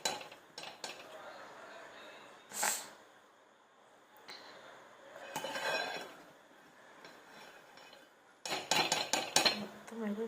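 A spoon scrapes and clinks against a pot while spreading a layer of rice over chicken biryani, with a few sharp metallic taps and scrapes in separate bursts amid quiet gaps.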